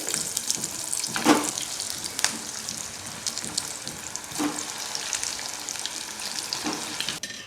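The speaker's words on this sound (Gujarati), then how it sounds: "આ જ રીતે આપણે બીજી પેટીસ પણ તળીને તૈયાર કરીશું" A steady, close sizzle of pea patties deep frying in hot oil, with occasional crackles and soft clinks and no voices.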